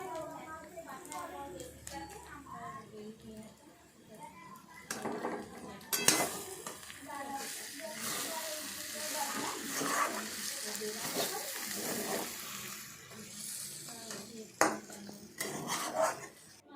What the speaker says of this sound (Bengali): ভালোভাবে ঘি দিয়ে ভালোভাবে নাড়াচাড়া করতে হবে